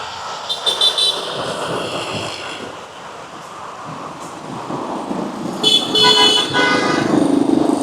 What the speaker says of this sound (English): I'm not trying to cross right there while all those horns are blowing.